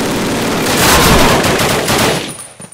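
Call of Duty machine gun suppressing fire at Pegasus Bridge, a loud, close, continuous rattling burst that swells and then cuts off abruptly.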